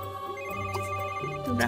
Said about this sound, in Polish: Odbierz telefon.